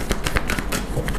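Tarot cards drawn and laid down during a reading: a quick run of soft papery slaps and shuffling flicks, close and fairly steady, with no talk over them.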